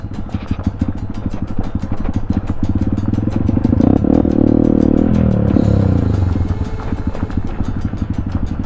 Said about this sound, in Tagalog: Pero kayang-kaya pa rin ng scooter to.